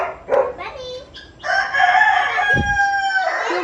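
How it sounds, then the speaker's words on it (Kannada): Wild junglefowl crow loudly and close by near a hillside resort, one long drawn-out call following a few shorter clucks, with a dog's brief bark partway through. "ಇದೆಲ್ಲ ಕಾಡು ಕೋಳಿಗಳು."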